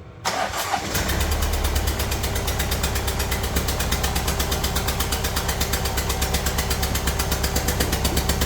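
A Kia Sportage 1.7 diesel with a leaking injector starts and settles into a loud, steady idle, its rapid rhythmic clatter close and continuous with no voices.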